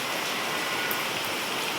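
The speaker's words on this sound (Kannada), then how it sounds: "ಒಳ್ಳೆ ಮಳೆ ಆಗ್ತಾಯಿದೆ," Dense, even hiss of steady rain falling close by in Kolar, Karnataka, continuous and unbroken.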